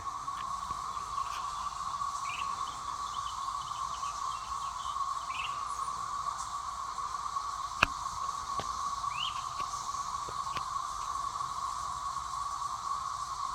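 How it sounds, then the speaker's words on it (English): A continuous, steady electric drone of cicadas fills the air at moderate volume, with faint bird chirps scattered over it and one sharp click. "Hear those cicadas?"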